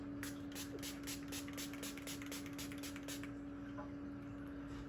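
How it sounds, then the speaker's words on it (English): Rapid bursts of e.l.f. Matte Magic Mist setting spray misted onto a face, about a dozen quick pumps in a steady rhythm, close but soft over a constant electrical hum. "I'm going to spray my face with the e.l.f. setting mist"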